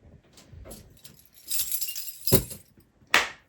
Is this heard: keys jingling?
yes